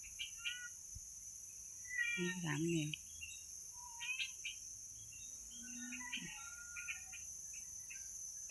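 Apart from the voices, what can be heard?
birds calling outdoors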